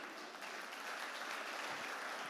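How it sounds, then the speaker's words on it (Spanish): Church congregation applauding during a sermon, a dense, even patter of many hands clapping at moderate distance for a couple of seconds, with no talk over it. "Denle el aplauso al Señor."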